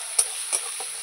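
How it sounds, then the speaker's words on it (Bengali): Grated bottle gourd frying in ghee in a pan for payesh, a steady soft sizzle with two or three brief scraping stirs, close and quiet with no speech. "ঘিয়ের মধ্যে ভাজতে হবে লাউটাকে"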